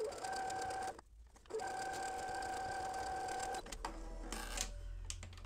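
A sewing machine stitches a strip of mini piping for quilt binding, running in steady bursts with a short pause between, close and fairly quiet; the motor hum carries on under a clicking rhythm.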